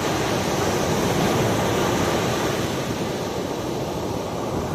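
Sea waves wash steadily onto a beach shore, a continuous loud surf roar with wind across the microphone and no talking.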